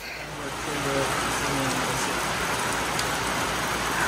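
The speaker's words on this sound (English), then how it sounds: "now it is downpouring" Heavy rain pouring onto an umbrella along the Appalachian Trail, a dense, loud, continuous hiss of drops that swells within the first half second and then holds steady.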